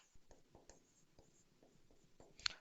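Pen writing out lecture notes on paper or a board, a series of short scratchy strokes and taps in quick irregular bursts, close and fairly quiet.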